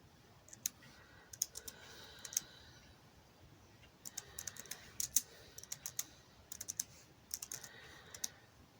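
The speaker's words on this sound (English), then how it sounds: "so I'm going to type in Isolated Wire." Fingers typing on a computer keyboard, quiet close clicks coming in short irregular bursts with brief pauses between words.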